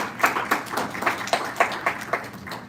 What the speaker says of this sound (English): Let's give them a round of applause for giving that car away.